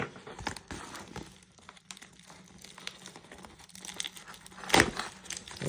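An X-Acto knife slicing through toy tank packaging, a close, papery crinkling and tearing that runs unevenly throughout, with one sharper, louder rip near the end.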